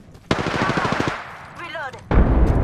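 Apex Legends gunfire, a loud rapid automatic burst, a short gap with a brief voice-like tone, then another heavy burst of shots.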